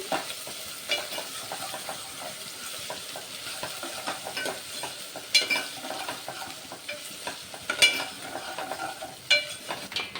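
Slit green chillies and four whole red chillies frying in a pan, a continuous sizzle broken by stirring scrapes and occasional utensil clinks, close and alone.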